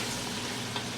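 One-pot pasta with spinach cooks in a pot, giving a steady, close sizzle and bubbling that holds even throughout a brief moment with no talk.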